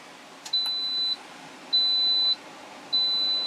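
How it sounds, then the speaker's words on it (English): An Instant Pot pressure cooker gives three long, high electronic beeps, evenly spaced and clear over quiet room tone, with a faint click just before the first. "This thing beeps at you for everything"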